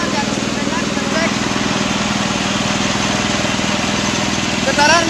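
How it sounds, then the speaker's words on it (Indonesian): Compressor engine running, checked for vibration: a loud, steady mechanical drone with a fast, even pulsing throb, close and continuous throughout, with a brief rattle near the end. "Kita akan mengecek getaran dari mesin kompresi belakang kabelnya."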